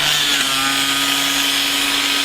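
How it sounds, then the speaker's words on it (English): A power drill whines steadily and loudly through wooden pieces held in a jig, its motor note holding a constant pitch for the whole stretch. "it's simply a case of drilling all of the remaining pieces by putting them in the jig"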